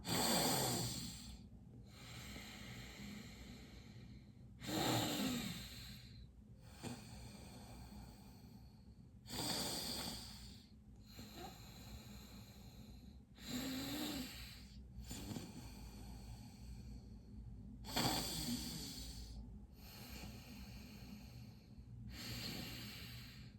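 Alternate nostril breathing during a guided breathwork session, slow airy breaths drawn in and pushed out through one nostril at a time, about eight long rushes spaced a few seconds apart, close and unaccompanied.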